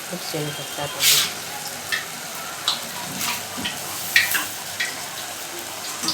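Curry leaves sizzle in hot oil in a pan for potato poha. There is a steady, close frying hiss broken by sharp crackles and pops, with a faint voice in the background.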